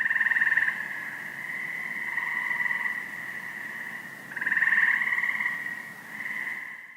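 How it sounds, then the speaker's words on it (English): Frogs croak and chirp in steady overlapping trills, a mid-to-high pitched chorus that pulses in louder waves and then eases, with no voices present. "So let's listen to frogs together."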